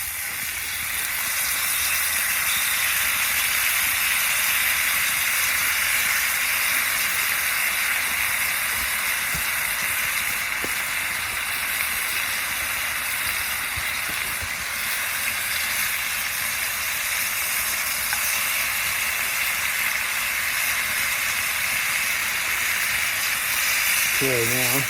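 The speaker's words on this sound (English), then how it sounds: "I have a mix here of sliced potatoes, yellow peppers, and red onions. And I just already put the oil in." Sliced potatoes, yellow peppers and red onions sizzle in hot oil with a constant hissing crackle that holds steady for the whole stretch, close and fairly loud.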